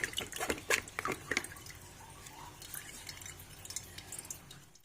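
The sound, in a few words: water dripping through strainer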